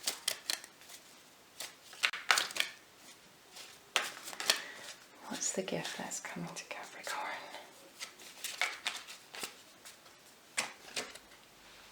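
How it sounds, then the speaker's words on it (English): Cards are shuffled in short, crisp bursts near the microphone while a person talks softly over them. "I'm going to shuffle them again"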